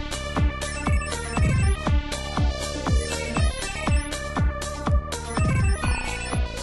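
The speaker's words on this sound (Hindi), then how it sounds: "अब तुम ही उठा लो, जल्दी करो फोन कट जाएगा।" A mobile phone ringtone plays loudly and alone, a repeating melodic pattern of bright tones with a regular rhythm that loops several times.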